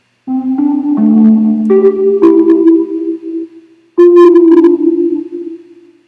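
A synth pluck preset called Dizzy Pluck plays a short melodic phrase of bright, twangy notes with a lingering reverb tail, then a second note rings out and slowly fades, loud and alone.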